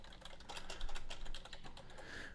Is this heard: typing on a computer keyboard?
yes